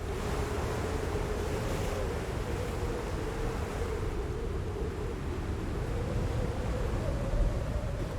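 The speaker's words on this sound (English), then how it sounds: "We've got a really windy day here." Strong wind roars across the microphone over the steady wash of waves at sea aboard a fishing boat, with gusts of 28 to 34 knots, a loud, continuous rush with no one talking.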